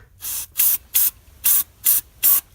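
Six short, loud hissing bursts of degreaser spray from an aerosol can onto engine grime, each lasting about a quarter second, spaced in a quick, fairly even rhythm and heard up close.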